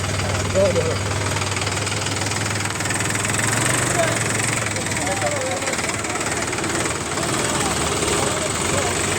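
A Mahindra tractor engine idles with a steady low chugging rumble, close and continuous, while voices talk over it.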